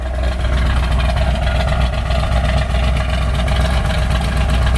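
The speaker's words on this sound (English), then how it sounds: "I'm going to step out and let you hear it run out the tailpipe" A 1963 Ford Galaxie 500 with a 427 dual four-barrel V8 rumbling at the tailpipe, a loud, close, steady low exhaust burble that stays even throughout with no talking.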